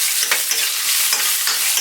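Onions sautéing in a pan before sardines go in, giving a steady, loud close-up sizzle with a few soft stirring scrapes.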